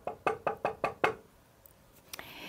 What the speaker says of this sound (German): Klopfen.